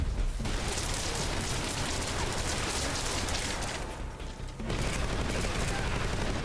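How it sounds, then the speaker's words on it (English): Dense, sustained Tommy gun bursts in Metal Gear Solid Delta, loud and nearly continuous with a brief dip before resuming. "Seriously, with the Tommy gun again already?"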